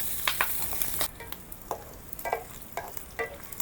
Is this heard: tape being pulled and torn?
no